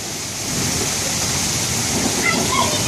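Meltwater and hail runoff from a hail storm gushing out of house gutters, a steady rushing splash that swells slightly after the first half second and stays loud and continuous, with a few faint higher chirps near the end.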